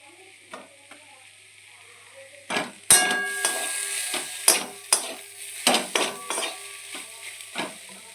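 Chopped tomato drops into a hot frying pan, then a utensil stirs and scrapes in a series of close, loud clattering strokes over a faint sizzle, with no voices.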